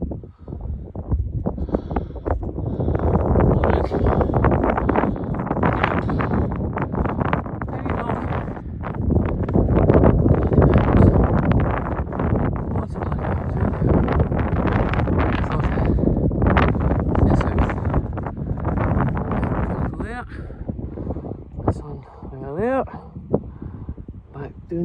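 Wind gusts roar steadily across an exposed hillside walking route, loud and continuous, easing slightly toward the end, with a voice breaking in now and then.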